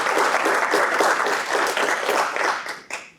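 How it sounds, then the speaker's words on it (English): An audience at a research panel session gives a round of applause to welcome a panelist. The clapping is dense and loud, with a continuous patter that holds steady for about three seconds before it starts to thin out. "So I will ask you a round of applause for them to welcome her."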